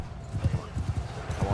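A horse's hooves clop in a quick irregular rhythm in the video game Warsails, close and moderately loud over a low background rumble.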